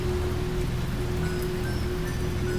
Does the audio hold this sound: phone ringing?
no